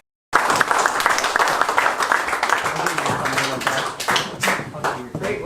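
A meeting audience at an annual gathering breaks into applause and cheering after a brief silence, loud, dense clapping with sharp individual claps and whoops that rise and ebb, some voices mixed in beneath.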